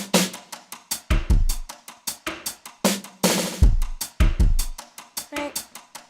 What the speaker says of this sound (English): So let's get us a beat going.